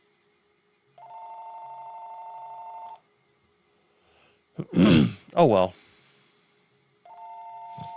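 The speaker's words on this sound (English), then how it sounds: "Sounds like my phone is." A telephone rings twice, each a steady two-second electronic trill separated by a pause, with a man's brief sighing remark between the rings.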